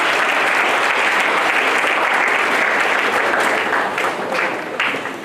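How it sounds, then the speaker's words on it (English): Dense, steady applause from a large crowd at a live-streamed gathering, loud and continuous throughout, easing slightly toward the end. "Let's give them a clap."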